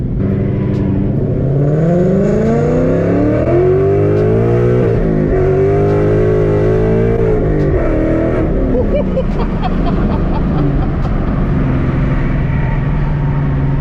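A Ford Mustang GT engine roars close and loud, rising and falling through revs as it accelerates through gears in a continuous heavy growl, with a voice briefly heard over it.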